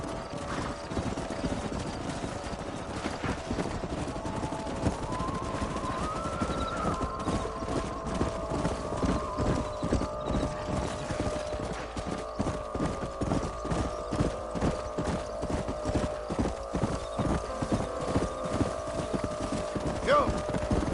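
Rhythmic hoofbeats of galloping horses in a video game pound steadily throughout, with a horse whinnying and occasional voices over the clatter.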